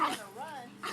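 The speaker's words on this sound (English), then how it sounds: "Hope you enjoyed that video of my two dogs chasing each other." Two dogs chase each other, with short yips and whimpering barks up close, opening and closing the second in bursts separated by a softer whine.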